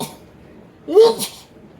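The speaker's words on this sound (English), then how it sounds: "And I'm going to sneeze." A single short, sharp burst from a nearby person, a sneeze rising out of quiet background.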